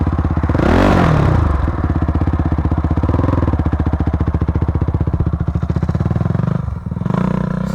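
A 2006 Honda CRF 450 dirt bike engine revs hard and close while being ridden, a loud continuous buzzing drone with a sharp rising rev near the start and a brief dip before picking up again.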